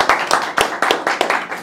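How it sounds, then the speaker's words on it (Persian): A small audience at a live Zodiac tournament game claps briskly for a player leaving the game, about eight quick, close, even handclaps in a short burst. "آقای سپهر رو تشویق کنین از بازی میره."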